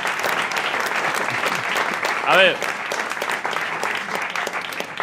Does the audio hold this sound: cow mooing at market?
no